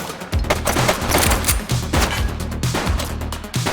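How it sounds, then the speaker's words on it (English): Rapid bursts of automatic gunfire crackle and pound continuously in the police video game The Precinct, loud and close, with no speech in between. "She's shooting!"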